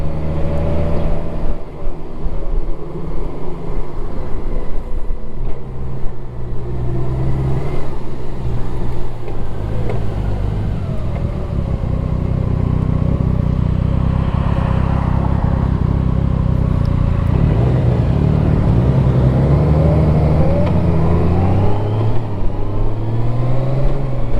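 A Honda Goldwing motorcycle being ridden, its engine droning steadily and loudly throughout with rising and falling pitch as it changes speed, mixed with continuous wind and road noise.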